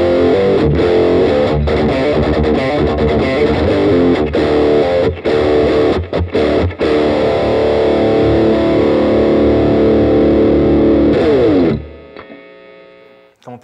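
EVH Striped Series electric guitar with a single bridge pickup, tuned to drop D and played through heavy distortion, chugging loud, dense low riffs with brief choked gaps, then ringing out and fading near the end.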